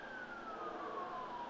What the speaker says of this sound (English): You can hear the sirens and the trains go by.